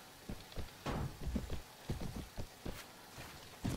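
Horse hooves clip-clop in Mount & Blade: Warband Viking Conquest, a quick, uneven run of soft thudding steps, fairly faint, with no voices over them.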